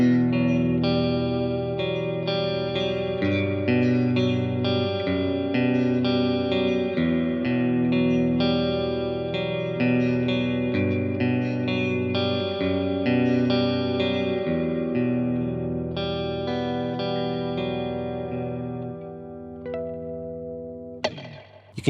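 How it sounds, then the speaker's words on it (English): Sustained, layered chords wash together with a shimmering, wavering chorus-like reverb tail from a JPTR FX Kaleidoscope pedal that swells and lingers, then cuts off abruptly near the end. "this is where we start to get into some sort of chorusy sounding reverb tails"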